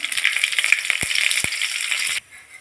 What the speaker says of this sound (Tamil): எண்ணெய் காஞ்சதும் கடுகு மட்டும் போடலாம்